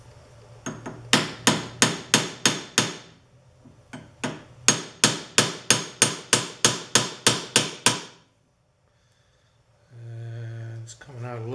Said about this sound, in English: my handy dandy hammer.